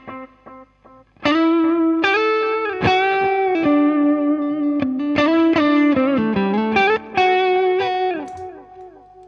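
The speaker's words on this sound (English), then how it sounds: "So this is where I have the delay set." Electric guitar played clean with a boost through a delay effect: a run of plucked notes and chords, each ringing out with echoing repeats, loud and alone.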